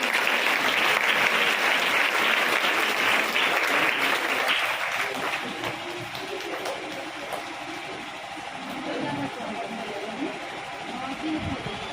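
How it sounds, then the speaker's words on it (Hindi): Church congregation clapping hands together in Sunday worship, a dense continuous wash of applause at steady volume across the whole stretch, loudest at the start and easing slightly later. "एक बार ताली बजाएंगे यीशु मसीह के लिए।"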